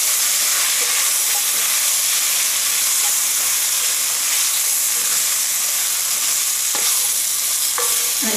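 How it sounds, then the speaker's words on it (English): Potatoes being stirred with potato starch in a cooking pot, a steady sizzling, frying hiss with occasional scrapes, close and continuous, no voices. "I am now going to add the potato starch and mix that around, because it's going to make like a roux."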